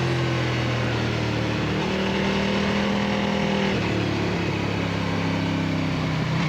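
A Formula 3 race car on its cool down lap after a club race sounds as a loud, close, continuous engine drone that shifts pitch through gear changes and holds steady at moderate revs.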